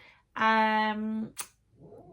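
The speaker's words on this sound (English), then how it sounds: "Silly cats. They're just being silly over there." Playful domestic cats making a clear, drawn-out meow close by, followed by a short sharp squeak and a faint scuffle; no talking.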